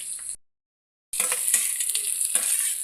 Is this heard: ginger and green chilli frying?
yes